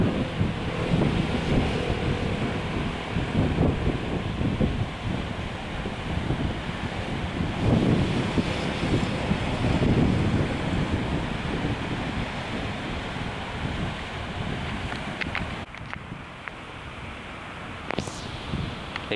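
Strong, steady wind roars across open water at a bend in a river where the current swirls and waves build, with broadband gusting and slapping surf throughout, briefly easing near the end.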